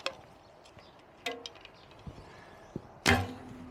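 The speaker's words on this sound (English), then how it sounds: "So let's shoot 6 arrows with thumb release." Arrows loosed with a thumb release from a Bearpaw Twin Hero take-down recurve bow, giving a few sharp, isolated thwacks spread across the stretch, the loudest near the end, over a quiet outdoor background.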